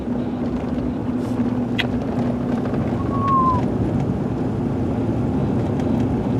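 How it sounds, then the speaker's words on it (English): Steady, strong wind buffets the open outdoors in Colorado in spring, a broad continuous rush with low rumble that stays loud and unbroken throughout, with a faint brief whistle partway through and no talking. "this wind's starting to kick up"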